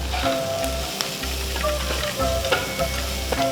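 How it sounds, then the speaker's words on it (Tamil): Onions sizzle and fry in a pan for ragi upma, a close, steady crackle broken by a few brief stirring clinks, with no talking. "இப்போ பார்த்தீங்கன்னா வெங்காயம் ஓரளவுக்கு வதங்கிடுச்சு"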